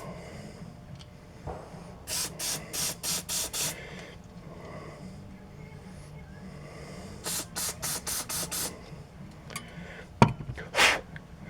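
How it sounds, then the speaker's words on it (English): Carburetor cleaner sprayed through a 2002 Polaris snowmobile pilot jet: two runs of short, sharp hissing bursts, about six each, close and loud, with a final quick blast near the end. "We'll spray some carburetor cleaner through it, some compressed air"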